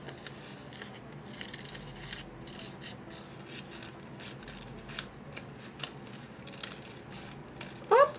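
Scissors snip through fabric while cutting out pieces for a modern dress, a series of faint, crisp cuts and rustles spread over a quiet background, ending with a brief louder scrape.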